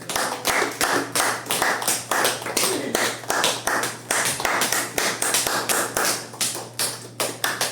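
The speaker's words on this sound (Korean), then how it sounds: "자, 그러면은 저기 우리 임현정 선사 나올 때 큰 박수로 환영합니다." An audience gives a welcoming round of applause for a speaker coming forward at a Korean gathering, with loud, distinct rhythmic claps from hands close by, some in near-unison beats, continuing steadily throughout.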